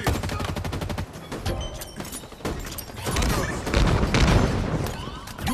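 Rapid gunfire in Halo Infinite multiplayer, with bursts of automatic shots, heavy thumps and booms in dense, loud succession, and a game announcer voice briefly heard beneath.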